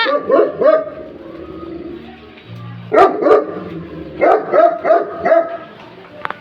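A dog barks repeatedly in short bursts, close by and loud, with pauses between barks.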